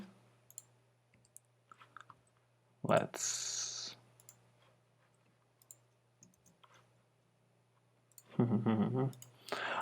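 Computer mouse clicks come as isolated sharp taps during work in Capture One photo-editing software, with one louder click cluster near the start and another near the end, partly under a man's speech.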